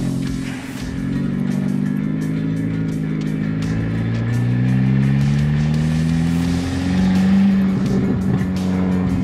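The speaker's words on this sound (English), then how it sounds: "I know you guys want to hear this car rip." A Kia car engine with a straight, open dump tube revs hard and loud nearby, its rough, throaty note rising and falling through several sustained pulls without talk.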